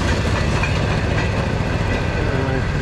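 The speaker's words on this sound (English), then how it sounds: "There's the trains." Train rolling past on rails, a loud, continuous close-range rumble with clickety-clack wheel noise holding steady throughout.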